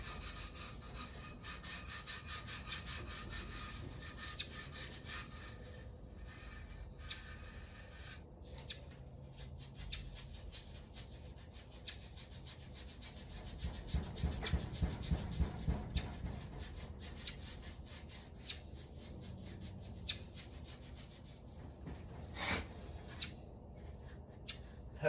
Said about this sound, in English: I'm gonna get back to scrubbing